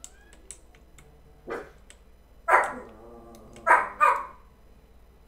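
A few dog barks, one single then a close pair and another double, ring out clearly over a quiet background with faint clicks between them.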